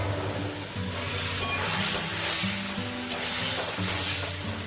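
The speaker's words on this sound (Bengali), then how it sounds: "এবার আলুগুলো দিয়ে দিচ্ছি।" Potatoes tossed into thick masala frying in oil in a pan give a steady, loud sizzle and hiss with faint scraping of a spoon, continuous throughout with no voices.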